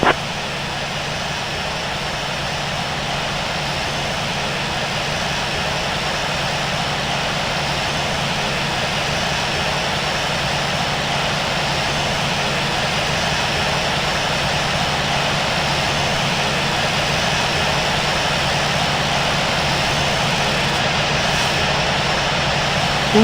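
Airliner jet engines whine in a steady, continuous drone while taxiing to the runway in the Infinite Flight simulator game, holding an even loudness with a broad hiss and low rumble and no voices throughout.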